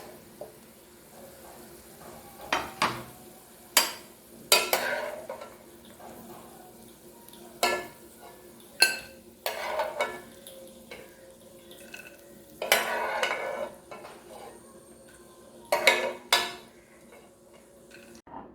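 Roasted peanuts being scraped and transferred from a pan onto a plate, with repeated close metallic clinks of a spoon against cookware and dry rattling of nuts in uneven bursts, no talking.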